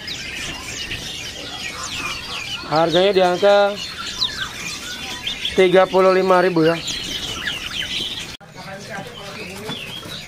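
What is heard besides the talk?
pleci walasea (white-eye) bird chirping at bird kiosk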